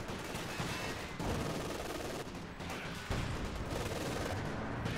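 Gunfire from snipers and a support gun in a Company of Heroes 2 battle: a dense, continuous roar of overlapping shots and blasts that keeps going without a pause.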